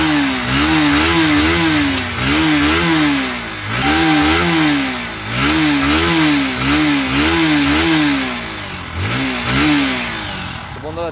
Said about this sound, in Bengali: দেখতে পারলেন বাইকের সাউন্ড কোয়ালিটি।